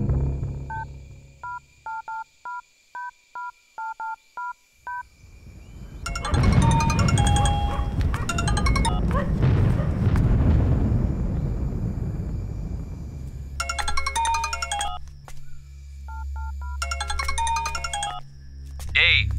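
In a Tamil film scene, a phone keypad tones out a quick run of dialing beeps, then a bright electronic ringing plays in two bursts. A voice talks and a low rumble sits between the rings.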